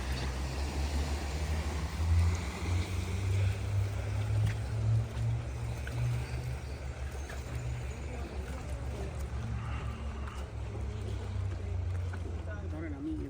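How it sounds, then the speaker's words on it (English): Low, steady wash of a passing boat's wake lapping against the Hudson River shoreline, with a constant rumbling undertone and a faint murmur of voices in the background. "Some waves crashing to the shore from the"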